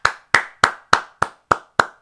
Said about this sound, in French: faut applaudir. Ouais. J'applaudis. J'applaudis